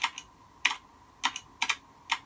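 Sharp bursts of typing on a computer keyboard, several quick clusters of clicks with short pauses between, close and clear over a faint steady background hum.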